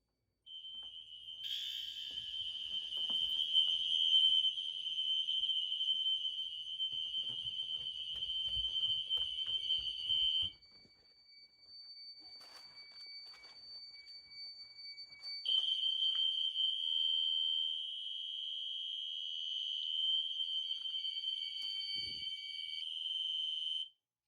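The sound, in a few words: emergency warning siren system test going off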